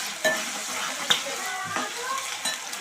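Ginger garlic paste fries in a pan for potato and green pea kurma, a soft continuous sizzle with a few light utensil taps and stirring sounds, close by and without speech.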